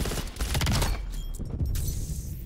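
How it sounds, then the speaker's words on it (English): Enemy artillery strikes in Call of Duty: Black Ops Cold War land as a heavy, rumbling barrage with crackling bursts, loud and close for a couple of seconds. "we're gonna stay inside because of an enemy artillery"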